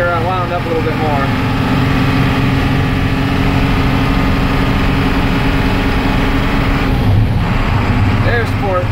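A Blue Bird bus engine revs hard in fourth gear, its transmission running on a modulator needing adjustment; a loud, steady drone rises in pitch and holds, with someone talking over it.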